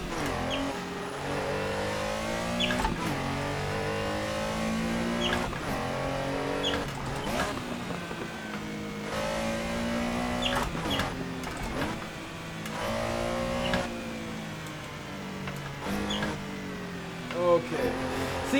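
Engine of a Porsche 911 Carrera RSR 3.0 in Assetto Corsa on a canyon road, revving up and down through the gears in a continuous, rising and falling drone, with brief shifts and a voice speaking over it.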